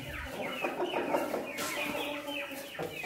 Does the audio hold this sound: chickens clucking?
yes